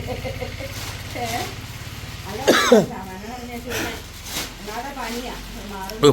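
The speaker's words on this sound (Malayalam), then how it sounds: "കുത്തി കുത്തി ചുമക്കുക" Someone coughs repeatedly in short, harsh bursts, the loudest near the middle, with speech heard around the coughs.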